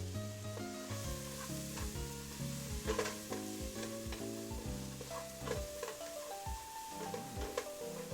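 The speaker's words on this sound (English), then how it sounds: "They're scaring me, so I'm going to give them a little stir." Cottage pie filling stirred in a frying pan, a steady sizzle broken by scraping and clacking stir strokes, with tonal music running underneath.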